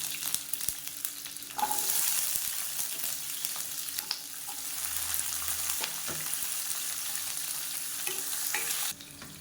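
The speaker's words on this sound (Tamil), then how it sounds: "இப்போ வெங்காயம் லேசாக வதங்கிடுச்சு" Shallots and garlic frying in a pan for chutney, a steady crackling sizzle broken by repeated spatula stirs and scrapes, close by and without talk, fading out abruptly at the end.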